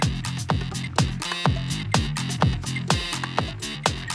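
A driving techno drum-machine loop in the style of a Roland TR-707 with booming, pitch-dropping kicks, crisp hi-hats and synth stabs, repeating in a tight, steady rhythm.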